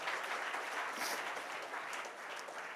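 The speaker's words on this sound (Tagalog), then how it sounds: "Palakpakan natin ng Panginoon dyan." Church congregation applauding together, a steady dense wash of clapping held at an even level for its whole length, with no voices rising above it.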